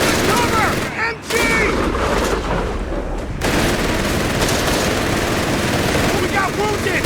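MG-42 machine gun fire in a Company of Heroes 3 battle, loud sustained rattling bursts with booms and battlefield noise, plus shouted voices over the gunfire.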